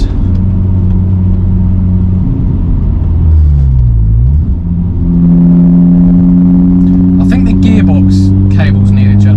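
Audi S1 engine droning loudly and steadily while driving with the gearbox stuck in third, pitch sweeping down and back up midway as the revs shift, with someone talking over it throughout.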